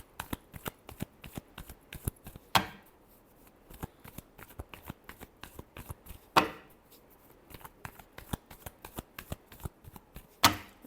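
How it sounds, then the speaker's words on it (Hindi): Tarot cards being shuffled by hand, a quick run of crisp, soft riffling slaps in an uneven rhythm, close and quiet, with a few sharper louder snaps where the deck is squared or cut. "Last shuffle."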